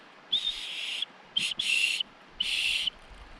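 Small survival whistle from a compass and magnifier combo, blown in three close, shrill blasts: one longer, a quick short chirp, then two more sustained tones.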